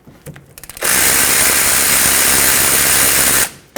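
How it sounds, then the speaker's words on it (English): A ratchet breaking free and spinning out the 14mm caliper bolts on a 2006-2010 Hyundai Sonata's rear brakes: a few loose clicks, then a loud sustained whirring grind for nearly three seconds, close and steady before cutting off. "let's remove the two 14mm bolts that hold the caliper onto the slider pin and therefore the bracket. Break them free."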